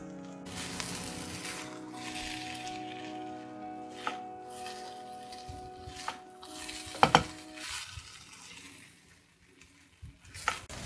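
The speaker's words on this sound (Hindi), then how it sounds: "अब हम सारी चीज़ों को अच्छी तरीके से स्टर फ्राई कर लेते हैं और फ्लेम बिल्कुल हाई है।" Fried rice stir-fried over a high flame, Chinese restaurant style, with a steady sizzle, spatula scrapes and clanks against the wok, and a few sharper metallic knocks near the middle; no voices.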